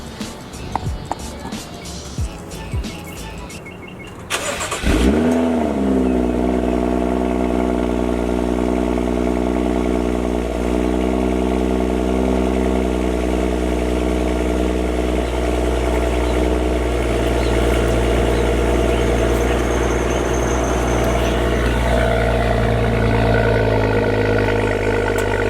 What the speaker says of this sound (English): check out how the cold start sounds on this baby